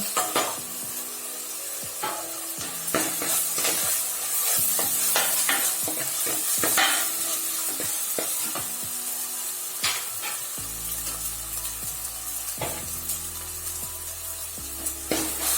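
Ginger garlic paste and green chillies fry in a pan after onions, giving a steady hiss of sizzling with repeated scraping stirs and occasional clinks of a utensil.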